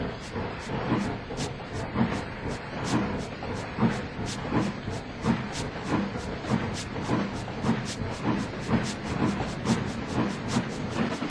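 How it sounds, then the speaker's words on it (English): A steam engine train pounds along the rails in a steady rhythm of sharp, regular hissing chuffs over a rumbling, clattering run, moderately loud and continuous throughout. "His wheels pounded the rails, determination driving him on."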